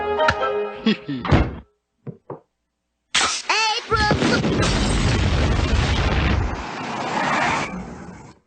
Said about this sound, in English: That sounded like an explosion at the old Simpson place